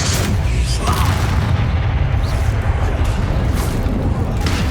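Confringo explosive spell blasts in Hogwarts Legacy: a sustained, loud rumbling roar of booms and crackling impacts fills the whole stretch, with bright bursts layered over a heavy low-end wash of combat.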